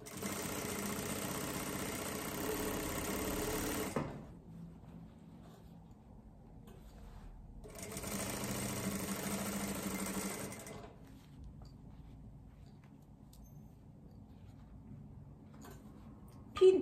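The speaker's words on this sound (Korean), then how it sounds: "이 가장자리 모서리 부분만 밀어 넣고 다른 부분에는 밀어 넣으면 안 되고 그대로 쭉 박아주면 됩니다." A sewing machine stitches along the edge of a tailored jacket, running in two steady bursts of a few seconds each with quiet pauses between them, fairly close and heard alone.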